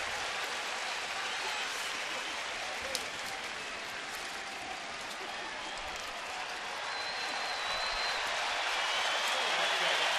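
A large baseball stadium crowd of over 31,000 roars steadily from a distance, a broad sustained wash of cheering that swells slightly toward the end, with no distinct voices standing out.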